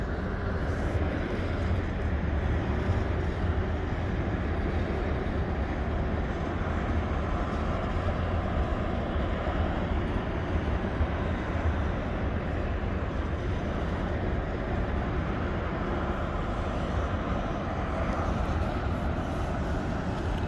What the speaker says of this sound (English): this train continues to slow down